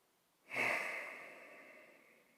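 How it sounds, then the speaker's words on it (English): One deep breath comes close and quiet after a brief silence, a soft rushing sound that fades away over about two seconds. "Take a breath."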